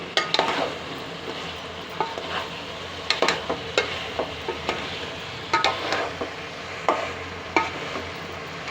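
Chicken curry with bitter gourd simmering in a pan, a steady low sizzle broken by scattered clinks and scrapes of a spoon stirring against the pan, close and moderately loud, with no talking.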